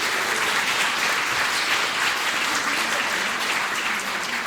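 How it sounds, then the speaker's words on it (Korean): A Korean benefit concert audience breaks into steady, dense applause to welcome dismissed irregular workers from a glass factory union, the clapping full and continuous throughout with no break. "박수로 환영해 주십시오."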